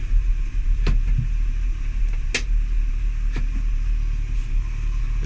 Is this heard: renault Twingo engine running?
yes